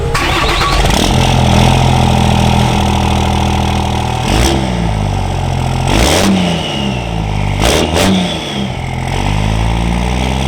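A truck engine revs hard from close by, climbing in pitch, dropping sharply at each gear shift, then climbing again in repeated sweeps, loud and alone without talk.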